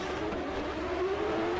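A drift car initiates a drift at an Oman drift competition, its engine revving high with a rising whine blended with tire squeal, steady and somewhat distant.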